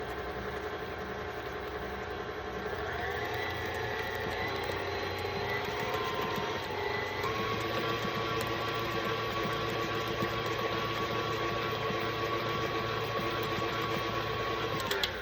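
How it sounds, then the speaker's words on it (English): Stand mixer running at low speed while mixing chocolate buttercream, a steady continuous motor hum with a slight rise in pitch partway through, close and alone without talk. "You see how I start my mixer slow"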